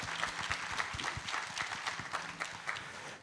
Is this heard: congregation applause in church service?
yes